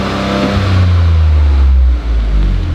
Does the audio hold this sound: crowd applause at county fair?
no